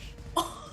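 A single abrupt sneeze, short and sharp, bursting out at moderate volume over a quiet background during a tabletop role-playing session.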